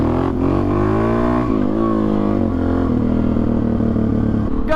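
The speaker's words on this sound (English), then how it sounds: "Gotta get a little wheelie practice in every now and then." A Suzuki DRZ400 supermoto motorcycle revving hard during a wheelie, its loud, steady single-cylinder engine note rising and dipping slightly and holding close to the rider for several seconds, with no voices.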